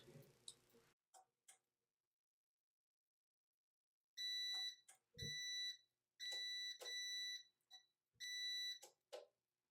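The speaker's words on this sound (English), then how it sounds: "press enter so it doesn't keep beeping" A Go2Craft tumbler heat press machine gives a series of loud, high electronic beeps in clustered bursts, with a few soft clicks and a thump between them.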